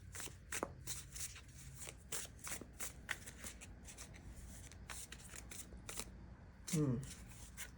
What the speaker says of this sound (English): I'm going to pull a couple more tarot cards here.